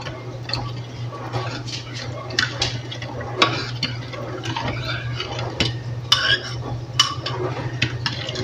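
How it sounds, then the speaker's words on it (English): A utensil stirs a yeast mixture for cinnamon raisin bread in a bowl, giving quick light scraping and clinking taps over a steady low hum, with a voice talking throughout. "We're gonna just give that a quick little stir."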